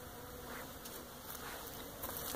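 Honeybees buzzing at a hive as they feed on mountain camp sugar, a continuous soft drone with light patter, heard close and fairly quiet without talk.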